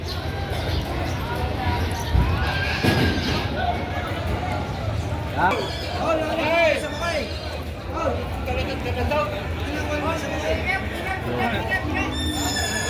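Horses whinny now and then at a busy livestock auction, with loud crowd chatter and people talking throughout, plus shuffling and knocks in the background.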